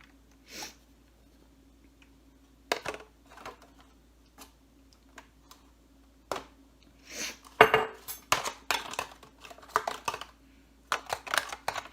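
Food spread thinly over the bottom of a pan during freezer-meal prep gives close, scattered scrapes, taps and light clinks of a utensil on the pan, in irregular short bursts with quiet gaps and no talking.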